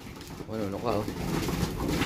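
Domestic racing pigeon cooing softly while pecking feed from a person's hand, a low rolling coo repeated a few times, close by, with someone talking over it.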